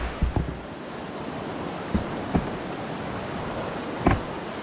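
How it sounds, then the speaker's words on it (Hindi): Steady broadband rush of flowing river water outdoors on a trip from Itanagar to Sagalee, continuous and fairly loud, with a few brief knocks and thumps breaking through the wash. "देखो पानी का बहाव"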